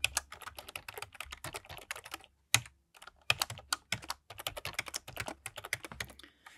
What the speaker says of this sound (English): Type in your username and password.